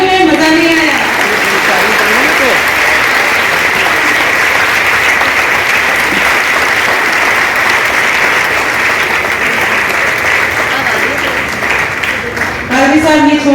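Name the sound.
applause from church congregation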